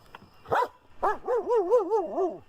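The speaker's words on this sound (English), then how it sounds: "the dogs are barking for a reason" Dogs bark in a scary video, first one sharp bark, then a run of several quick, moderately loud barks in a bouncing rhythm, with no talk over them.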